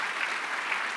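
Audience applause fills a live show studio, a steady wash of many hands clapping at moderate level throughout the short stretch with no voices over it.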